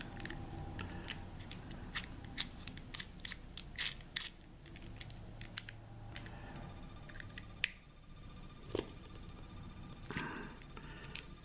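Case back of a Diesel DZ-4283 watch being tightened, a series of sharp close clicks and small metallic ticks at irregular intervals in a quiet room.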